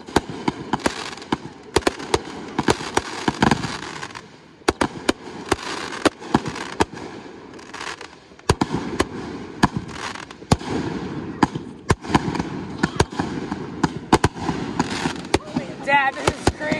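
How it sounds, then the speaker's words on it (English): A Fourth of July fireworks grand finale bursts in a dense rapid barrage, sharp cracks and booms overlapping nonstop, with a crackling tail and a voice shouting briefly. "We are going to be doing a crazy grand finale for Firework."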